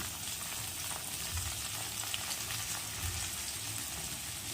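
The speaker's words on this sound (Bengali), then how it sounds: "চিংড়ি মাছটা ভুনা করার জন্য এখন আমি পেঁয়াজটাকে একটু ভেজে নিচ্ছি" Onions frying in a pan as the base for a prawn curry, a steady close sizzle and crackle with faint stirring scrapes, continuous and even throughout with no talk.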